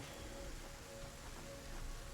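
Steady, soft rain in Satisfactory, a continuous even patter with a faint low rumble underneath, distant and unbroken, with no voices.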